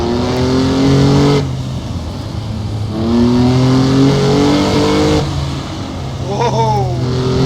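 Mercedes-Benz 300 SL engine in a racing video game on the Targa Florio course, a steady loud motor note that rises and falls in pitch with shifts, with a person talking over it throughout.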